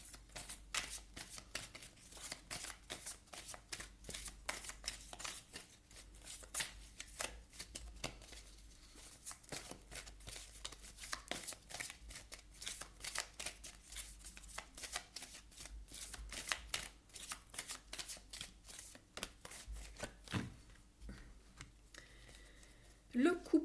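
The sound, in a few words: shuffling tarot oracle cards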